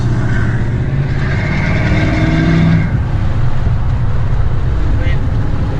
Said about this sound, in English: that right there, I throttled pretty good there